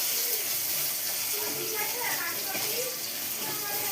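Five or six cloves of chopped garlic fry in hot oil with a steady, close, bright sizzling hiss that holds level throughout.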